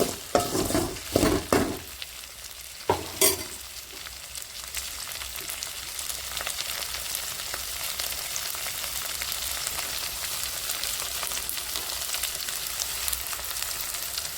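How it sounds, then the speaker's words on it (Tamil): Okra sautés in oil for vendakkai rasam, opening with several loud stirring knocks and scrapes, then settling into a long, even sizzle. "நல்லா எண்ணெயிலே நல்லா வதங்கணும் வெண்டைக்காய் நல்லா வதங்கினதுக்கப்புறம்"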